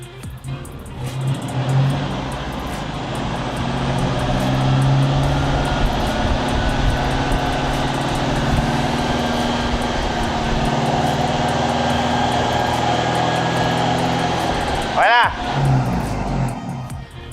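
Car engine with a Borla performance exhaust runs on a dyno, a loud, steady exhaust drone holding through the whole stretch with a brief surge near the end, heard close up and alone.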